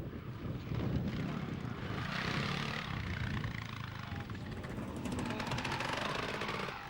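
A KTM enduro motorcycle arrives at the finish of a Scottish enduro in 1995, and its engine drones and buzzes steadily and loudly throughout with a slight rise toward the end.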